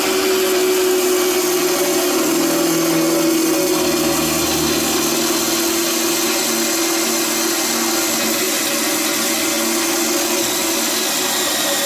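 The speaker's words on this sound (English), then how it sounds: "Now we're going to take a step bit on our impact and drill this hole to about 5/8 of an inch." Impact drill fitted with a step bit boring a 5/8 inch hole during a winch kit installation, a steady loud whining grind held unbroken for the whole stretch.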